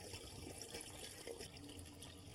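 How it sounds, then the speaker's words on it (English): Toilet tank flushed empty during installation of a water-saving toilet in a bathroom, a steady rushing gush of draining water that runs continuously and fairly quietly throughout, with no talking. "To remove the water from the tank, we want to flush it."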